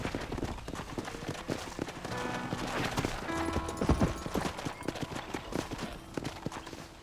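Horse hooves clip-clop in a steady, rhythmic trot in the video game Red Dead Redemption, close and fairly loud, with a busy background of other game sounds and no clear talking.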